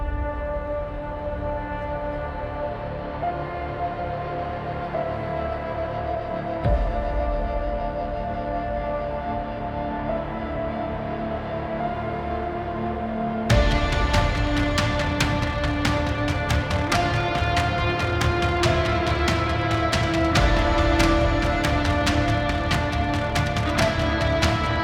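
Intro of an epic hybrid trailer track: dense sustained orchestral and synth layers build steadily. Midway it jumps louder and brighter, with rapid percussive hits driving beneath the full wall of sound. No voices.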